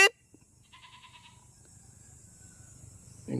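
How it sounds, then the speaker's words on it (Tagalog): A goat bleats once on a farm plot planted with dwarf coconut trees in the Philippines, with faint insects chirping behind and a sharp sound at the start and end. "Yung kambing ko guys, andun na."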